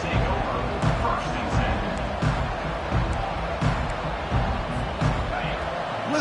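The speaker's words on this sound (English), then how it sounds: "Listen to the crowd energy here in the early going." A football stadium crowd at a UNC versus Clemson game makes a dense, continuous roar with scattered thuds, heard under someone talking throughout.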